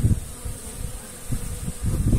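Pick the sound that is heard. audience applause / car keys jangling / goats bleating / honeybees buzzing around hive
honeybees buzzing around hive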